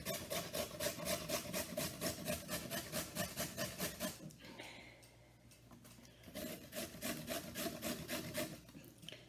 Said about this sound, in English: I'm going to use my grater and just grate my carrots